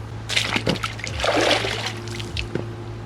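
Hiking boots fitted with gaiters splash quickly and firmly through a shallow stream, giving a few close sloshing steps and trickling water over a low steady hum.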